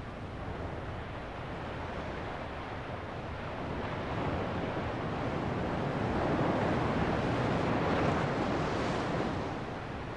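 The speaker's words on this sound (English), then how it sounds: "What is the effect then of these more impressive surfing breakers, which push large amounts of water onto this flat beach?" Surfing breakers push large amounts of water onto a flat beach, a continuous loud roar of surf with wind noise that swells gradually in the second half.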